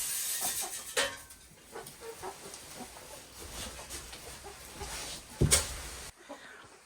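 Chickens in a coop give soft clucks and a few sharper calls, scattered and fairly close over a low background rustle, with one louder burst near the end.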